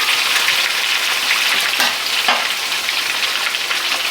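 Pork tenderloin browning in a small pan, giving a loud, continuous close sizzle that holds steady throughout with faint crackles, no voices.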